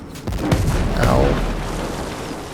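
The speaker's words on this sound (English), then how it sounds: "This thing is shooting at me through the wall" Heavy gunfire from an enemy shooting through a wall in the video game Ghost Recon: Breakpoint, loud booming shots rolling into one another with a low rumbling tail.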